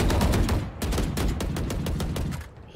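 Killjoy turret firing in Valorant, a rapid burst of about a dozen evenly spaced sharp gunshots, loud and close, briefly pausing then resuming before cutting off.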